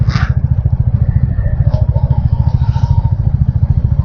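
A motorcycle rides along an unfamiliar road, its engine thumping in a fast, steady pulse close by, with faint clatter and wind over the top and no talk.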